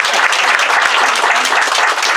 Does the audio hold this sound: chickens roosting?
no